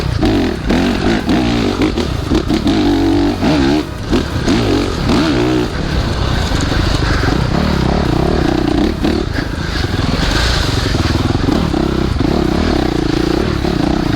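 A 2017 Honda CRF 450 motocross bike's engine roars and revs continuously up close, pitch rising and falling as it accelerates, with clattering over rough ground.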